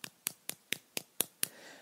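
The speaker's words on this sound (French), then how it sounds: "on peut applaudir" Seven evenly spaced hand claps at a Formula 1 2018 season awards show, sharp and fairly close, followed by a brief trailing hiss.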